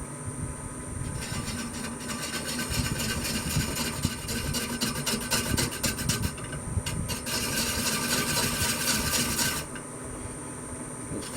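Woodturning tool cutting maple on a lathe spinning at about 230 RPM: a dense, rasping scrape runs continuously, swelling and easing as the sharp edge bites into the spinning wood, close and alone with no speech.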